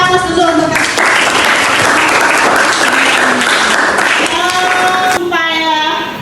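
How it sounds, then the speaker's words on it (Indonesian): A classroom of children claps together in sustained, loud applause lasting several seconds, with a teacher's voice speaking over the start and end. "Kita aplaus dulu"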